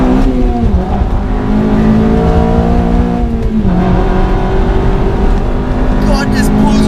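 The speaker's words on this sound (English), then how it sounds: "God, this pulls really hard in VTEC." A Honda Civic Type R FD2 with a 230 bhp K20 engine accelerates hard into VTEC, its loud, close engine note climbing in pitch through the gears with a steady roar heard from inside the cabin.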